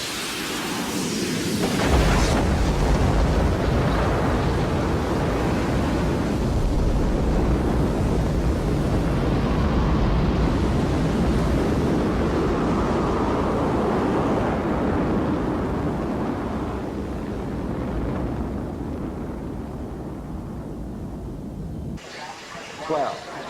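Deep, sustained roar of a Soyuz rocket's first stage thrusting at about 930,000 pounds, a broad rumbling blast that starts abruptly and holds steady for about twenty seconds before cutting off, with voices briefly present.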